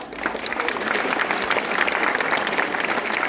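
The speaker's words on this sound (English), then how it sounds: "such smart students will clap for your smart teachers" Students at a school Children's Day celebration clap steadily for their teachers, a dense, even wash of applause from a large group lasting throughout.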